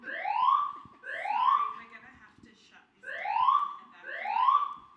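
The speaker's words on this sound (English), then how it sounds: "Just a lovely choice alarm there." A building fire alarm sounds loud and close in repeating rising whoops, four long sweeps with a short gap midway, with no voices over it.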